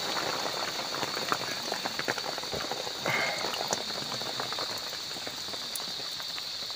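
Heavy rain pours down steadily, a dense hissing patter drumming on a surface with scattered louder drops, and no voices are heard.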